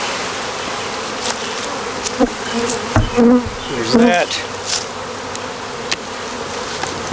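Honeybees swarm around an open hive box, their close buzzing humming continuously while a voice speaks briefly partway through.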